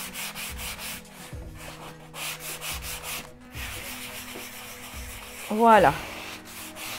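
A painted stencil on a small table is rubbed by hand to distress it, giving a series of close, rhythmic scraping strokes. A short spoken word comes near the end.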